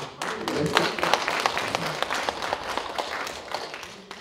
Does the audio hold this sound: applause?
yes